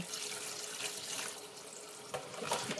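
Tap water runs steadily over leafy vegetables being washed for a curry, a soft close hiss with faint splashes and handling noises.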